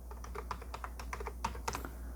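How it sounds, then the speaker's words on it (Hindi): Rapid keystrokes on a computer keyboard while a password is entered to unlock a BitLocker-protected USB flash drive, a close run of uneven clicky taps with no speech. "पासवर्ड टाइप करें।"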